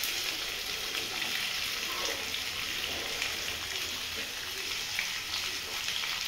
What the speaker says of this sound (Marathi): थोडंसं लाल झाला लसूण की त्यामध्ये चिरलेली भेंडी टाकून द्यायची.